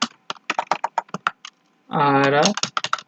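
Quick clicks of a computer keyboard tap out a bot command in irregular bursts, close and crisp, with a short spoken interjection partway through before the typing resumes.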